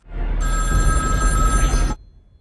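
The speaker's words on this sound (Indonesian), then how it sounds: "telepon umum kembali berdering dan dijawab oleh orang lain" A public pay phone rings in a film scene: one loud, bright electronic telephone ring lasting about a second and a half, then it stops, leaving a faint background.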